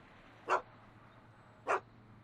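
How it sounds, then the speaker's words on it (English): A dog barks twice in the Back to the Future video game, two short, sharp barks about a second apart over a quiet background with no talking. "Why couldn't Doc have invented a dog translator?"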